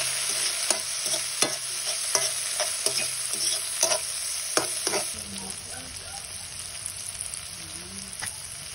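Onion and tomatoes sautéing in a pan for a dried anchovy and egg dish, with a steady sizzle and repeated clacks of a utensil stirring through the first half, then softer frying alone.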